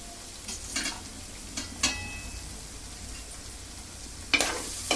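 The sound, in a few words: chili powder frying and being stirred in curry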